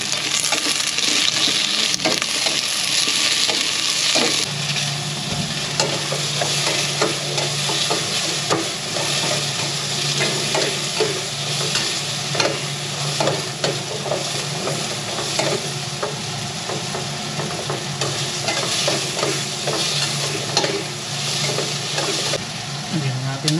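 Kamyas (bilimbi) sautéing in a pan of hot oil, a continuous close sizzle with frequent scraping stirs and small clinks throughout.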